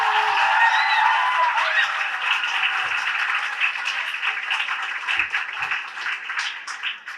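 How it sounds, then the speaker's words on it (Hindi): Steady clapping from the school audience continues after a student play for Premchand's birth anniversary, an even crowd applause that holds for several seconds and thins out near the close. "और जितनी ताली बजाए उससे डबल ताली बजानी है अभिषेक जी के लिए।"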